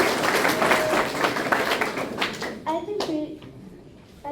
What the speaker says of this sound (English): I think you all need another round of applause.